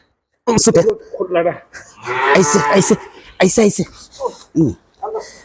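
A cow in labour on a farm moos several times up close, with one long drawn-out low call in the middle, and shorter lowing sounds around it.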